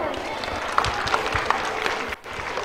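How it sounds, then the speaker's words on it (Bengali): A crowd applauds school authorities at Karimganj Senior Secondary School of Science, with a steady wash of clapping lasting a few seconds. A few sharper claps stand out, and a voice speaks over it before the applause briefly dips near the end. "ওনাদের জন্য একটা জোরে করতালি হয়ে যাক"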